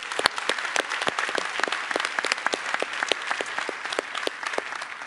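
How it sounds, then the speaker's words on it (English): Applause at a software engineering conference closing ceremony, a smaller crowd clapping with distinct individual claps audible over a steady patter, moderately loud. "I want to give them all a round of applause for all of that very hard work"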